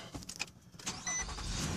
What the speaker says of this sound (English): y'all can see me getting in my car.